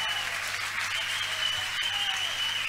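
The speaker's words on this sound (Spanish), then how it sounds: "Un aplauso grande!" A crowd applauds loudly at an Argentine metal concert, with continuous dense clapping and cheering, steady and close throughout.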